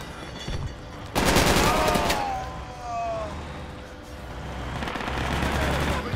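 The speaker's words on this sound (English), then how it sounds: "I'm gonna shoot an RPG in." An RPG fires in Project Reality during an urban infantry fight in Fallujah West. A loud launch blast leads into a rushing whoosh and a sustained roar, with rattling gunfire around it and faint voices mixed in.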